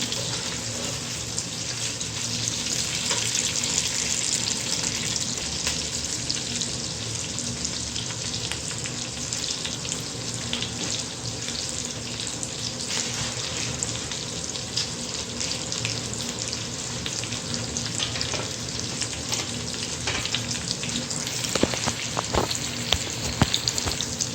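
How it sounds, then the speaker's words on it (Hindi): Green chillies and two large capsicums sizzle in a pan for chimla pulao, a steady, dense hiss of frying that runs unbroken and fairly close throughout, with no voices. "अपनी सब्ज़ मिर्चें और जो 2 बड़े वाली शिमला उनको डाल देते हैं और इनका थोड़ा कच्चापन दूर करते हैं।"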